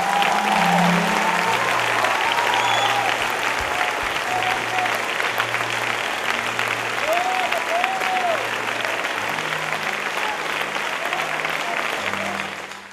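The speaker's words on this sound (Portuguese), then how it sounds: "eu quero ver você dar uma salva de palmas a Jesus" A church congregation applauds for Jesus at a pastor's sermon, sustained loud clapping from a large crowd with a low music tone droning underneath.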